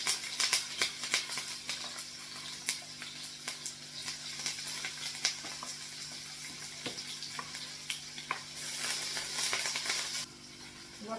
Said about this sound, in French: Je vais mettre les oignons dans l'huile.